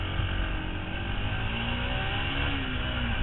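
Yamaha WRX125 motorcycle pulling away in first gear, its engine note climbing steadily across a few seconds at moderate, close range with no one talking.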